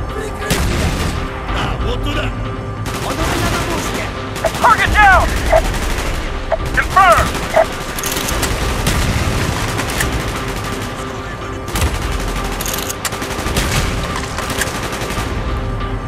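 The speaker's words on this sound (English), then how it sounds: "Gunfire's drawing attention." Bursts of gunfire crackle repeatedly over a dense battle din in the video game Call of Duty: Black Ops, with scattered shots and brief whistling tones, loud and continuous throughout.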